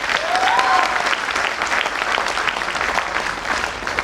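Loud, dense applause from an audience at a motivational business event, a steady wash of many hands clapping at once that holds for several seconds, with a brief whistle-like tone near the start.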